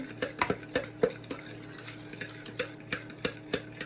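Salad being tossed with sesame dressing in a bowl, a quiet rhythmic run of soft clinks and scrapes from utensils against the bowl, close and fairly faint.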